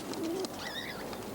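A feral pigeon calls among city building ledges, a short low coo followed by a brief higher-pitched bird note, fairly faint against a constant hiss of outdoor background noise.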